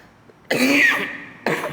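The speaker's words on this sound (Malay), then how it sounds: "Maaf saya batuk sikit." Two coughs, the first a harsh rasping burst lasting about a second, the second shorter, close to the listener.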